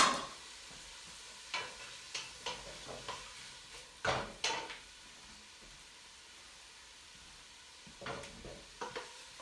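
Vegetables for a turkey bolognese softly sizzle in a pan under a steady low hiss, with scattered clicks and scrapes of a utensil stirring them, quiet and close, no voices.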